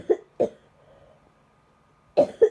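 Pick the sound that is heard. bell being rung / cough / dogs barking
cough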